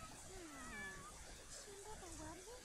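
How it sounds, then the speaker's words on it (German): Cat meowing in The Sims 4, a series of tonal, rising and falling mews repeated over a steady game background, fairly clear and close. "Und die Katze hat Hunger!"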